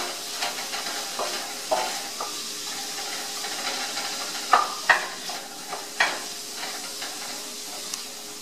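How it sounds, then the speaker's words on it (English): Carrots and other vegetables sautéing in a pan for a Moroccan lamb stew: a steady, soft sizzling hiss broken by irregular clicks and scrapes as the pieces are stirred, close by with no talking. "saute these and get them nice and soft"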